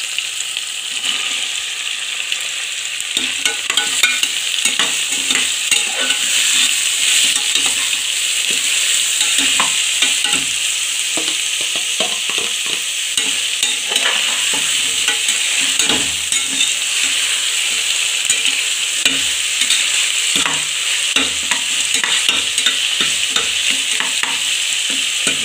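Onions sizzle and hiss in hot oil in a pan for vegetable biryani, a loud, steady frying bed broken by frequent scraping clicks of a spoon stirring, with no talking.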